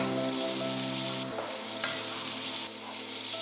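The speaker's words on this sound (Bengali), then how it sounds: "কাজু বাদামটা দিয়ে একটু নেড়ে চেড়ে ভেজে নিতে হবে একটু লাল লাল করে।" Cashew nuts frying with cinnamon, cardamom and cloves in hot oil, a steady close sizzle with a soft stir partway through.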